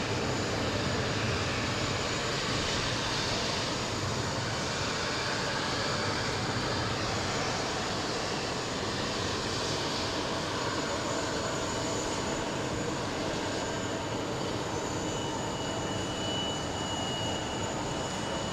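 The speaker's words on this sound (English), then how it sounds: "We have a CRJ taxiing right below us" A CRJ regional jet taxis past at JFK airport, a steady broadband jet engine roar holding loud and even throughout with no talk over it.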